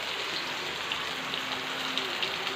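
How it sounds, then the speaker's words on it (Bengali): Rain falls steadily outside a home kitchen, a continuous even hiss of drops with a faint low hum underneath and no talking. "আর এদিকে কী বৃষ্টিটা হচ্ছে এই দেখুন"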